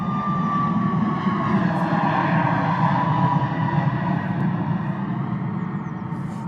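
A Ryanair airliner taking off from Bristol Airport in Somerset, a loud sustained jet engine roar close by with a rising whine, gradually fading toward the end.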